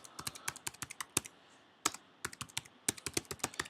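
Close, crisp keystrokes on a computer keyboard entering a command, fast bursts of clicks broken by a short pause before another quick run of typing.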